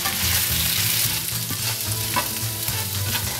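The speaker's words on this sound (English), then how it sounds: "So now we're going to add our rice and let it cook for about a minute in the oil" Rice frying in hot oil for a prawn and chorizo jambalaya, a loud steady sizzle with stirring scrapes and clatter running throughout, close up and with no voices.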